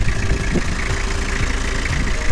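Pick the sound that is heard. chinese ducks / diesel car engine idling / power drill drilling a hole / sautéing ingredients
diesel car engine idling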